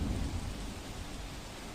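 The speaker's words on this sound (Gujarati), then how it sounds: "વરસાદ વીજળીના કડાકા ભડાકા સાથે વરસાદ થયો" Heavy unseasonal rain falls with thunder in the Morva Hadaf area of Panchmahal, Gujarat: a steady, dense hiss of rainfall over a low rumble, faint and brief.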